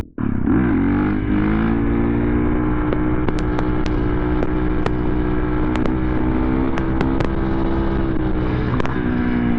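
A KTM motorcycle with a new ECU, ridden doing wheelies, its engine droning steadily and close with a constant rumble, mixed with wind buffeting throughout.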